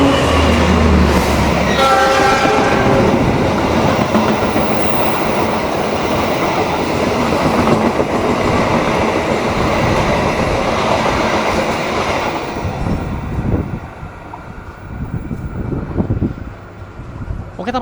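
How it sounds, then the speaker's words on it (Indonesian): The Argo Wilis express train runs straight through Manonjaya station without stopping. A sustained loud rumble and rolling wheel noise on rail joints, opening with a horn blast, fades as the train passes into distant clatter. "itu dia kereta api Argo Wilis melintas langsung stasiun Manonjaya"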